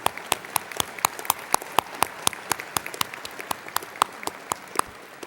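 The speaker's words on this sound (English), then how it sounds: "Please give them a round of applause." A small group applauds steadily for several seconds at a university winter commencement, with individual claps distinct and no voices.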